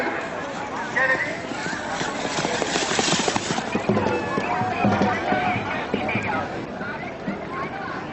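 A horse gallops at a neza bazi tent pegging event in Mandi Bahauddin, its hoofbeats thudding under a loud announcer's commentary and a murmuring outdoor crowd.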